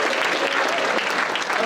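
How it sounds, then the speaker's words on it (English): A school Hall of Fame induction ceremony audience breaks into loud, continuous clapping, a dense wash of hands at close range with a faint voice underneath. "Give yourselves a round of applause for being such a good audience."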